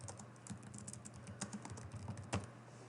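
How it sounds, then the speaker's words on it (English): Computer keyboard typing as a search term is entered, a quick irregular run of soft close key clicks against a quiet room hum. "And then you may want to type in here"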